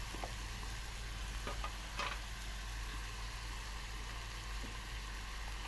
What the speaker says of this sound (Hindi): अब इसको हम अच्छे तरीके से फ्राई करेंगे।